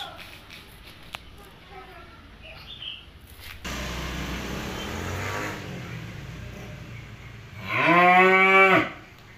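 A single loud moo from a beef cattle bull calf rises near the end, long and low with a harmonic bellow, after a stretch of quieter background noise.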